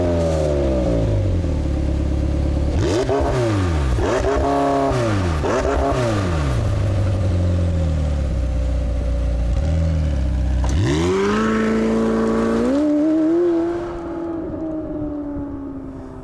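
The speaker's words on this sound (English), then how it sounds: "I'll let you guys hear what that new 4-liter V8 sounds like really quick." A 2018 McLaren 720S's new 4-litre V8 revs hard and close, with several quick rising-and-falling blips and then a longer climb to a high, sustained wail that drops away at the end.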